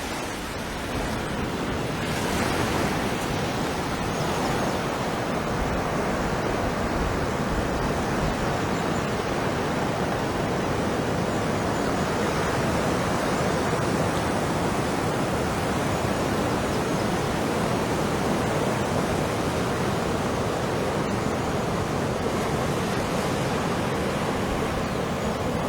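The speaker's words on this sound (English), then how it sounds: "the sound of the rocks that are rolling on the beach, the gentle slapping of the waves as they're coming up the beach" Steady, dense surf at Bathsheba rushes and washes up the beach without pause, with a gritty rolling-rock texture mixed into the broad, constant roar of the breaking waves.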